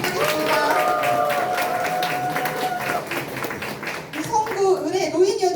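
Crowd clapping in a steady patter at a political party members' meeting while music plays beneath, then a voice begins speaking over the fading applause.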